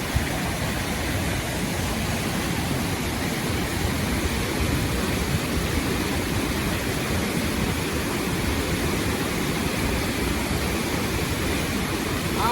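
Steady, dense rush of flowing water with no breaks, loud and constant throughout, from a river seeping into a gem mining pit in Sri Lanka.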